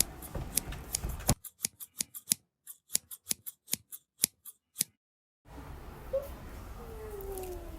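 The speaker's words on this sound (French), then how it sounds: "Les ciseaux." Scissors snip about fifteen times in a quick, fairly even rhythm, each cut a crisp close click, between stretches of low room noise.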